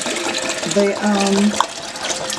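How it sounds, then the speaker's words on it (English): Water streams steadily into a homemade drink sweetened with cane sugar, a continuous pouring rush with a bubbling, rising tone, while a voice talks over it. "we're going to put in a lot of water in this one"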